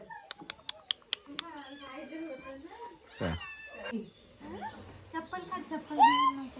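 A cat meows a few times between bursts of a person talking and calling to it softly, with some short clicking sounds at the start.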